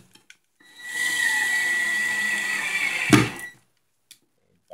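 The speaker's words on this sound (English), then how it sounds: "just want to test running some screws into the edge grain" A power driver whirs steadily for about two and a half seconds as it sinks a 1 5/8 inch screw into the edge grain of Garnica plywood without pre-drilling, ending in a sharp thunk as the screw seats, with a few faint clicks before and after.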